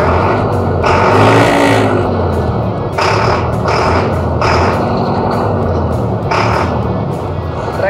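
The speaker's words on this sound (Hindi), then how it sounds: "ट्रैक्टर का जो इंजन साउंड है काफ़ी मक्खन हो गया" A Sonalika Tiger DI 60 CRDS tractor diesel engine idles with a steady, smooth low rumble, close and continuous, joined by intermittent higher-pitched rasping bursts.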